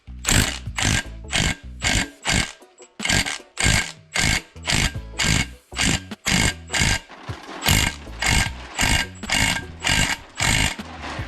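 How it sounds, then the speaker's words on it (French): An impact wrench works loose stubborn bolts on a dismantled Austin Mini, firing in repeated short loud bursts, roughly one to two per second, with brief pauses between them. "Moi je vais aller progressivement"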